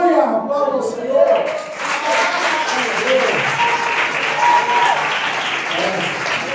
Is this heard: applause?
yes